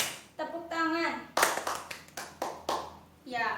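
In a classroom, children clap their hands in a counted rhythmic pattern, with sharp, close claps in quick groups alternating with a sung or chanted counting voice.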